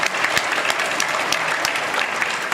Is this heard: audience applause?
yes